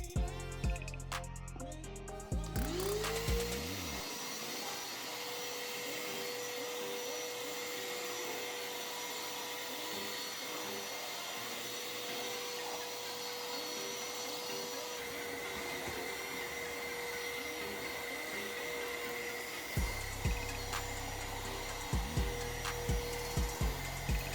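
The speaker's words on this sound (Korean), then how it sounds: "마지막으로는 청소가 필요했던 곳에 가져가서 청소를 하는 영상입니다" A 20-litre commercial vacuum cleaner switches on with a rising whine, then runs with a steady loud roar, its pitch shifting slightly as it works, before winding down near the end.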